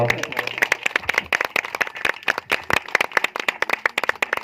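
A congregation claps in welcome at a Christmas celebration in a church, with sharp, fairly close individual claps forming an uneven rhythm, and a voice briefly audible at the start.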